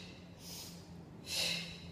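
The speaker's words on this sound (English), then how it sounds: "hear my exhale, it's strong" A strong, forceful breath during a workout, a breathy airy rush that swells twice with the second exhale louder, close to the microphone, with no talking over it.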